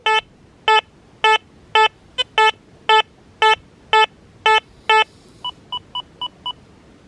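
A Deus 2 metal detector with an HF2 coil in the 89 kHz band at reactivity 0 gives target tones over foil and a small gold ring: ten loud, evenly spaced beeps, then five shorter, softer beeps.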